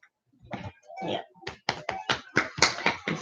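A child claps hands at bedtime, a string of close, sharp claps that start irregular and settle into a quicker, steadier rhythm, growing louder toward the end.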